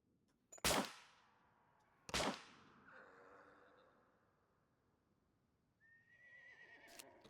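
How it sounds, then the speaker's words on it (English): A horse whinnies in a looting-and-building video game, a rising, wavering call that comes late and fairly faint. It follows two loud, sharp gunshot-like bangs that fade into quiet. No speech. "I hear a horse."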